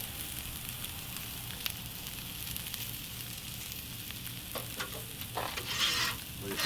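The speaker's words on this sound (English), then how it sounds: "Lit up grilling, baby." Food sizzling on a grill seasoned with black pepper, a steady crackling sizzle with faint scraping and stirring, swelling slightly louder toward the end, close and alone without talk.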